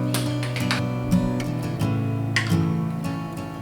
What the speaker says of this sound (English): What you're hearing is my fridge. My fridge is loud sometimes.